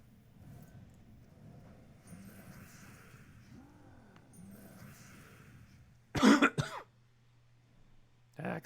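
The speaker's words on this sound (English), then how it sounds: "Ah, cough, go away." A sick person coughs and clears their throat, a short loud burst of harsh coughs near the microphone and then a further single cough after quiet background hum.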